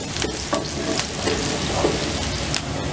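Finely chopped onion fries in a pan with a steady, loud sizzle and crackle, broken by a few brief stirring scrapes, with no voices over it.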